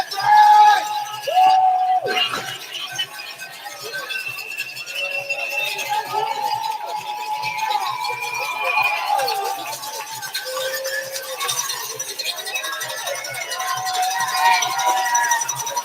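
Cowbells clank and clink from the spectators lining the New York City Marathon course, mixed with crowd cheering and chatter at moderate distance.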